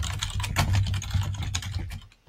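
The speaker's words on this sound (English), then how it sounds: "You can probably hear my keyboard." Steady rapid typing on a computer keyboard, close and fairly loud, a dense run of clicks and key taps that keeps going for about two seconds before tailing off, with no talking.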